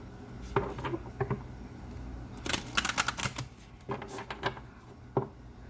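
Tarot cards being shuffled by hand, giving soft irregular riffling and tapping bursts that come in short clusters, fairly faint and close with a quiet room behind.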